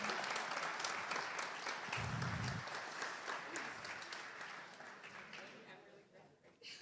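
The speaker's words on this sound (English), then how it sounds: "Let's keep clapping until she gets up here." An audience at a business talk claps steadily, the applause fading gradually over several seconds with brief talk near the start and a sharp loud bump at the very end.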